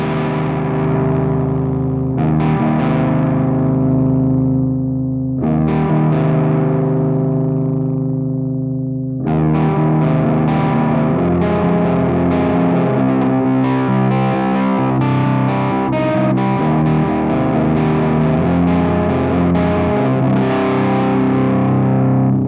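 Electric guitar played through a GUP Tech T-Bag amp on its normal channel with a dark, low-gain tone, loud sustained chords ringing out and decaying, then a denser stretch of strummed, driven chords.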